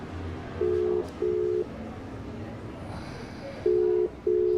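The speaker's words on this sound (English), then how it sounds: "It's ringing. It's ringing. It's ringing. Just ringing." A telephone ringing back, steady double-tone rings repeating with pauses, heard through the line over faint background hiss.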